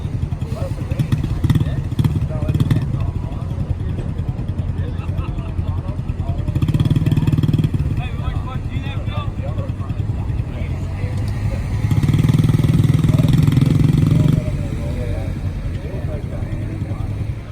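Entry-level motorcycle engine running while riding, a loud steady drone that swells in two longer surges of throttle, with voices talking over it.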